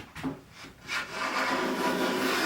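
Jorgensen 60 1/2 block plane, freshly sharpened and tuned, shaving wood in full-length strokes: a few short scraping passes, then one long, steady rasping hiss, close and clear with no talking.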